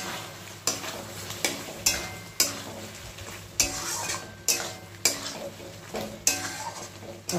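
Pointed gourd (potol) with tomato and spices being sautéed in a pan, a steady close sizzle broken by repeated scraping stirs and utensil knocks against the pan every second or so.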